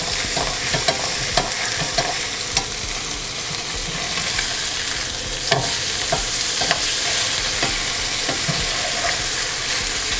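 Canned-salmon croquettes sear in a hot pan, a bright continuous sizzle up close punctuated by scattered sharp clicks and taps of a utensil, with no voices.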